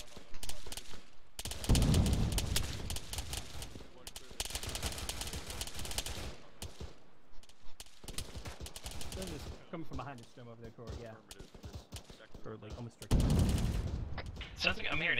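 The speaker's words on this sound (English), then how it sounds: "Yeah, there's lots of fire going out." Heavy gunfire crackles during a military-style operation, with long rapid bursts and scattered shots of varying distance, and voices talk over the lulls between volleys.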